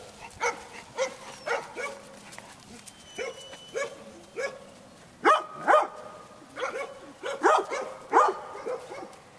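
Dogs outdoors giving a steady run of short barks and yelps mixed with whimpering, fairly close and moderately loud, with no talking.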